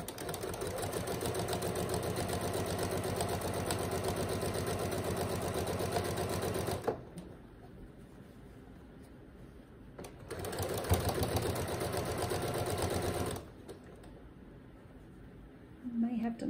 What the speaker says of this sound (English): Just running a quick top stitch right near that seam line.